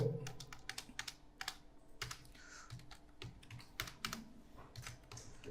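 Someone types a short word on a computer keyboard, producing quick, crisp clicks in brief bursts, faint and close, with no talking.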